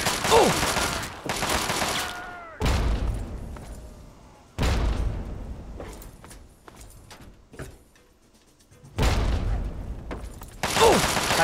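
Frag grenade explosions in Fallout 3 inside Vault 87: several loud booming blasts go off a few seconds apart, each cutting off into quieter debris and gunfire, with sharp transients between them.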